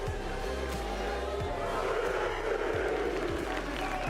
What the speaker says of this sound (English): now it's his chance to lap up the applause himself